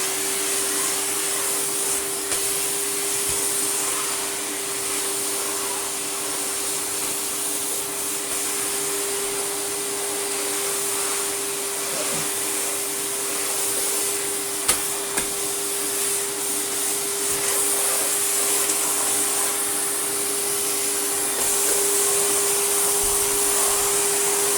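An Electrolux 350e vacuum cleaner runs on a hard floor, a loud, unbroken motor whine with a high airflow hiss, continuous and close throughout.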